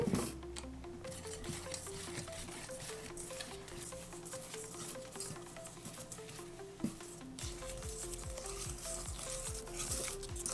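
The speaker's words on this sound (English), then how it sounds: "we're going to go ahead and whisk that together" A hot cocoa cookie icing mixture is whisked in a bowl, making a rhythmic, repeated scraping and light tapping of the whisk, close and moderately loud, with quiet music playing underneath.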